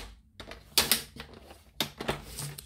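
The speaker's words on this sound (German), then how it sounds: "Ich schneide einfach einen halben Zentimeter ab" Paper is trimmed by half a centimetre for a summer card background in a Stampin' Up craft project, giving crisp, close cutting clicks in two separate bursts with short quiet gaps between them.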